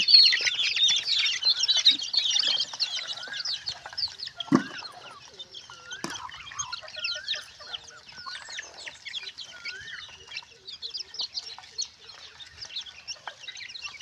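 Young chicks and older chickens around one and two months old clucking and peeping on a village poultry farm, a dense continuous chorus of chirps with occasional louder clucks and a brief wing flap midway.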